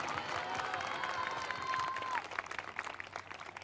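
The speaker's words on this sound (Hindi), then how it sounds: "ताली तो बजा दो, धन्यवाद तो कर दो।" A church congregation claps in applause at a Sunday evening prayer meeting, a dense steady crowd rustle that runs for about two seconds and then thins into scattered claps.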